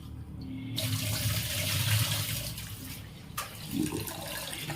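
Tap water runs steadily into a sink with close splashing as rice is rinsed under the stream, the flow shifting briefly now and then.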